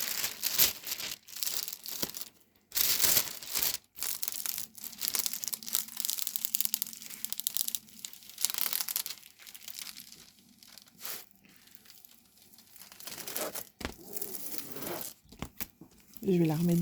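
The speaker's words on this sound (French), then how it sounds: "Je remets un peu le plastique." Plastic sheeting crinkles and crackles loudly as it is smoothed back over a diamond painting canvas with AB drills, a dense, continuous rustle close to the microphone.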